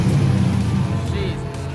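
An LS-swapped Nissan 350Z idles with a low, steady rumble at close range, swelling a little as the throttle is blipped and then settling back down.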